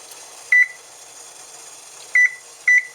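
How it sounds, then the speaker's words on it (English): A microwave oven timer gives three short, bright electronic beeps as it is set for steeping kombucha tea, the first alone and the last two close together, in a quiet kitchen with no talking. "Go back, set the timer again."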